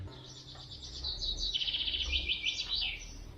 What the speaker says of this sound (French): les oiseaux, ils sont contents.